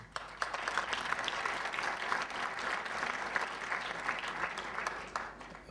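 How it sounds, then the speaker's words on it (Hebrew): Applause from the audience at an emergency press freedom conference, a dense continuous wash of clapping from a room full of people, steady and moderately loud with no talking over it. "(מחיאות)"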